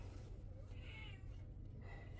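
A domestic cat meows once, a short rising cry in the middle of the clip, with a faint second call near the end, heard indoors over a low steady hum and quiet background noise.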